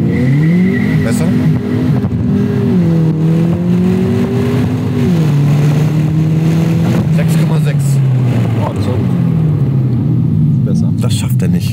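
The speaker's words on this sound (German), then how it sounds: "Du merkst, wenn du Gas gibst in dem Polo, diesen großen Motor." A VW Polo GTI engine pulls hard under throttle, its tone climbing and dipping through steady revving that runs loud and close for about twelve seconds, with a voice talking over it.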